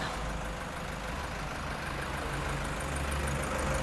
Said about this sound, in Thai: ตอนนี้เราสตาร์ทเครื่องยนต์อยู่นะคะ คุณลูกค้าฟังเสียงเครื่องยนต์ได้เลยค่ะ